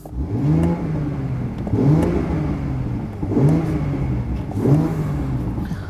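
A Toyota Supra with a manual gearbox revs repeatedly in sport mode, four rising and falling engine pulls in a steady rhythm, loud and close with no talk.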